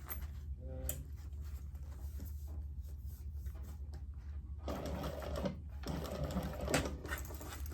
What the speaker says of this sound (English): I'm going to top stitch along this side through all layers.